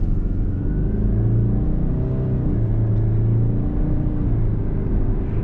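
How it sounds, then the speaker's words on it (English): 2021 Subaru Ascent Premium with a turbocharged 4-cylinder engine accelerating hard at night, a steady loud engine rumble with rising mid-range drone and faint turbo whir, heard from inside the cabin. "You can hear the little whirring of the turbo."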